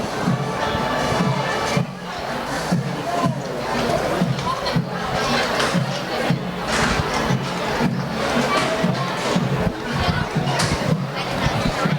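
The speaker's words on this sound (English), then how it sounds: "there's still a sizable crowd here" A sizable crowd in the stands at a varsity high school football game against Riverdale Baptist, third quarter, rumbles with steady chatter and scattered cheers under a commentator's talk.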